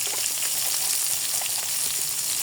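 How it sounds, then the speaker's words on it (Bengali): Onion frying with cardamom pods and cinnamon sticks for a jackfruit-seed meat curry, giving a steady, close, even sizzle throughout with faint crackles and no talking. "দারচিনি দিয়ে দেবো, দিয়ে পেঁয়াজটা ভালো মতো ভেজে নেব।"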